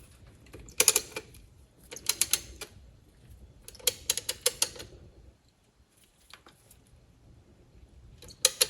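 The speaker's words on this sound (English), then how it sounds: "I can carefully hold the caliper as I ratchet the pistons back into the housings" A ratcheting brake caliper piston compressor tool pushing pistons back into the front caliper of a 2018 Chrysler Pacifica, giving quiet bursts of rapid mechanical clicks in several separate runs with pauses between them.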